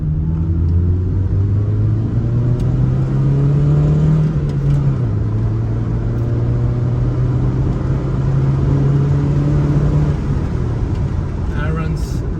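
Honda Civic pulling hard in second gear, engine drone climbing steadily in pitch, easing briefly, then rising again from inside the cabin, with someone talking over it.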